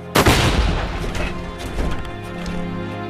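Volley of guns fired together at an execution of rebels strapped to cannons, one loud, sharp blast that rolls into a long, booming decay and rumbling echo.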